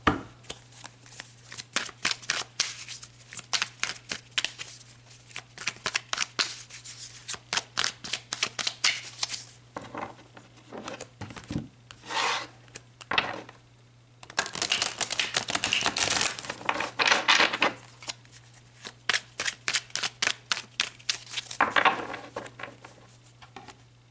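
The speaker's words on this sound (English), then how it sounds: "So let's pull a few more cards." Tarot cards shuffled and pulled by hand, close and crisp, with rapid fluttering riffles in bursts separated by short pauses and softer slides, over a faint steady low hum.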